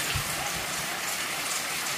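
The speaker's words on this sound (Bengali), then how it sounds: "বৃষ্টি আরও বাড়তেছে" Steady evening rain pours down with wind, a continuous even patter with a brief low thump near the start.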